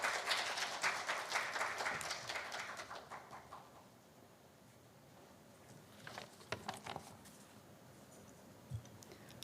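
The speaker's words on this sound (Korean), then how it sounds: "큰 박수로 맞아주세요." Audience applause at a Korea–Japan women journalists' forum, a dense wash of clapping that starts loud and full, then thins and fades out, with a few scattered claps returning near the end.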